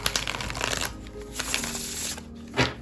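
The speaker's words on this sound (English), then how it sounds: "they're very easy to shuffle, very easy to riffle shuffle" A quick riffle shuffle of tarot cards, a fluttering burst of rapid flicks followed by a shorter second riffle and a soft bridge, close up.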